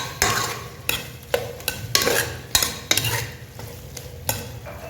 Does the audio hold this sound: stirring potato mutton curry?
yes